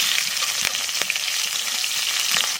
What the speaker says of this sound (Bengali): তেলের পর দিয়ে দেবো কালো জিরে আর দেবো তিনটে কাঁচা লঙ্কা